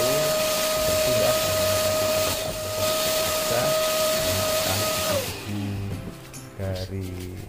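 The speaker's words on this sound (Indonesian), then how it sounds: "kita vakum supaya kotoran-kotoran yang menempel di situ bersih ya" A vacuum cleaner running over a foam sofa seat during a DIY repair, a loud steady whine and hiss that cuts off after about five seconds, with a person talking throughout.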